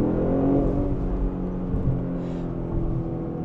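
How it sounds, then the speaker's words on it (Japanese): Lexus LBX Morizo RR engine pulling steadily under acceleration, a continuous low mechanical drone with a rising tone, heard from inside the car at moderate loudness with no talking. "このためアクセルを踏み込まなければとても静か、そして踏むと"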